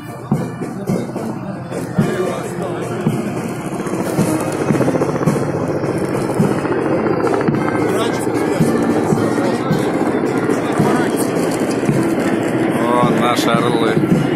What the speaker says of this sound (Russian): За ним следуют вертолеты среднего класса К-32, далее вертолеты малой авиации легкого класса